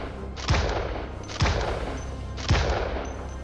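Three loud, evenly spaced gunshots boom at a shooting range in Starship Troopers Extermination, each a heavy thump with a short ringing tail over steady background hum.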